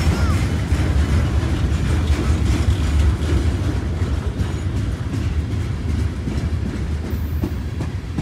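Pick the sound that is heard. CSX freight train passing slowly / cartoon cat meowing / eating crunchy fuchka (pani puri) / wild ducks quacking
CSX freight train passing slowly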